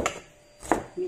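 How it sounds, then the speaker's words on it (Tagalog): A knife slicing shallots thinly for a milkfish dish, two short crisp cuts on a board about half a second apart, fairly close and quiet. "So, ito yung shallots. Slice lang natin yan ng"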